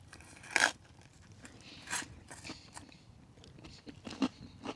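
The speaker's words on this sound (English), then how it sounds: "it's crispy on the bottom, but the olive oil gives it a nice crunch" Someone bites and chews a crispy, overcooked pizza with an olive-oil-crisped bottom while winter camping, giving several sharp, close crunches followed by quieter chewing crackles.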